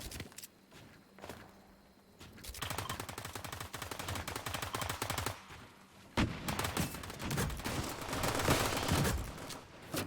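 Fortnite battle gunfire and grenades: dense rapid bursts of automatic shots, with heavy blasts and a brief lull near the middle, continuous and loud, with no one talking.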